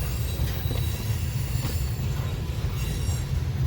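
A BNSF train rolls north on the Sioux City subdivision near Fremont, Nebraska, a loud, continuous low rumble of passing railcars with squealing wheels and faint rhythmic clatter, heard alone.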